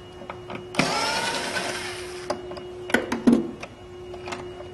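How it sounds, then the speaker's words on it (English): Removing the screws and spacers from a power supply brace on an old-style power supply unit: a sustained buzzing whir of a power screwdriver runs for about a second and a half, followed by several sharp metallic clicks and small clatters. "Got 2 screws, 2 spacers, and the brace itself."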